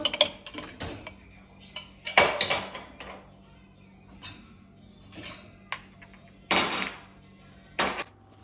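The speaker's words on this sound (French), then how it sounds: "je vais vider le lave-vaisselle" Dishes and cutlery clatter and clink as a dishwasher is emptied in a home kitchen, in irregular bursts of close, sharp knocks and ringing taps separated by short quieter gaps.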